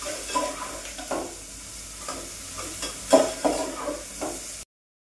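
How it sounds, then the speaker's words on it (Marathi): Onion, tomato and garlic sauté in oil with a soft, continuous sizzle. Now and then a utensil scrapes and stirs the pan close by, and the sound cuts off abruptly at the end. "त्यामध्ये मी कांदा, टोमॅटो आणि लसूण परतून घेणार आहे"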